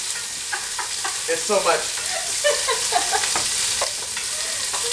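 Stew meat browning in a hot pot, a continuous bright sizzle and hiss under close conversational voices.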